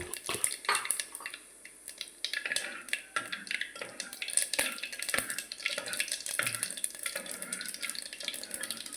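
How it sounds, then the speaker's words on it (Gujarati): Cumin goes into a cooking pan for a Gujarati tindora vegetable dish and gets stirred, with soft clinks and scrapes of a spoon against metal over a faint sizzle, close and fairly quiet. "હવે આપણે જીરું નાખી દઈશું મિક્સ કરી લઈએ"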